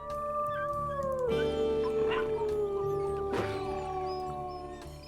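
Wolves in the WolfQuest Anniversary Edition game, Lost River map, howl in long sustained wavering tones, several overlapping voices with whimpering yips mixed in, steady and fairly loud with no talk.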